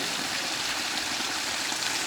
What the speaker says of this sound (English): and then you've got the waterfall